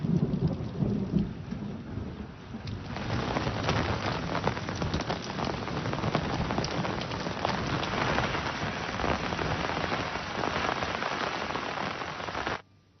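Heavy unseasonal night rain with storm winds and thunder in Yeola taluka, Nashik district, pours in a dense continuous roar of drops hitting surfaces, with low rumbling beneath, before cutting off abruptly at the end.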